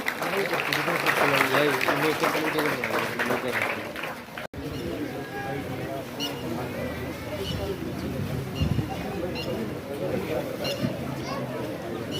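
Audience applause at a village welcome ceremony, a dense sustained clapping from a crowd with a babble of voices, continuing after a brief cut partway through.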